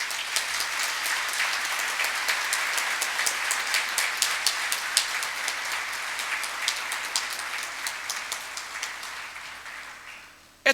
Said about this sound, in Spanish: se la devolvamos con un nutrido aplauso